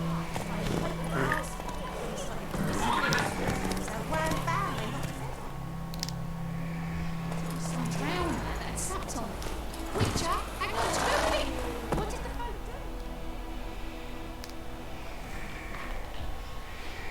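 Horse hooves clip-clop at a run in The Witcher 3: Wild Hunt, with whinnies, game music and a voice talking over the steady hoofbeats.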